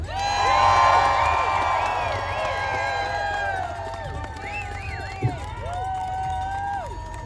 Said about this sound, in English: So you're going to want to give her a major round of applause